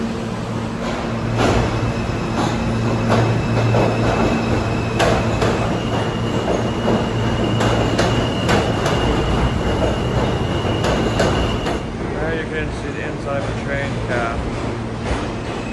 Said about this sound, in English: there's the A train going into the station over there